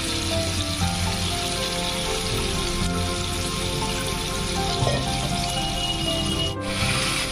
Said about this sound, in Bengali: তেলের মধ্যেই আমি দিয়ে দিচ্ছি এখন চিকেনটা।